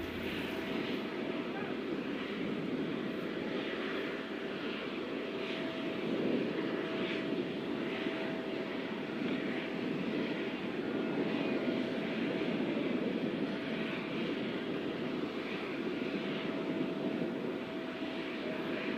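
An airplane carrying the Prime Minister of India arriving and taxiing at a ceremonial welcome, a steady loud engine roar with a constant whine that holds throughout, while a voice talks over it.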